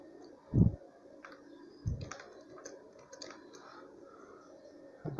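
Enter and Tab keys pressed on a computer keyboard, a few soft, sparse clicks and taps at close range with quiet stretches between.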